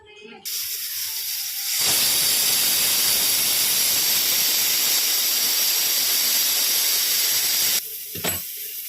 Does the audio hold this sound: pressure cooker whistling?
yes